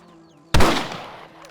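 A single loud rifle shot in Red Dead Redemption cuts through a quiet outdoor scene, sharp and close, followed by a long echoing decay.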